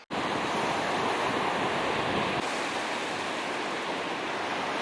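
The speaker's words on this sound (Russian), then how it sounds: "Такая вода мутная, волны." Muddy Atlantic surf rolls in along a bay at Mar del Plata, a steady, loud wash of breaking waves with wind rumbling across the microphone and no voices.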